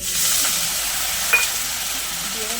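Ground spices sizzle in a pan with a splash of water while being stirred for a curry of taro, potato and rohu fish, a steady soft frying hiss with one brief clink of the utensil.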